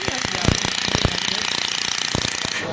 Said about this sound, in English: then we can set the frequency higher so that we can do continuous welding